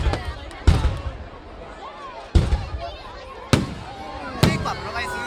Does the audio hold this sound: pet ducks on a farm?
no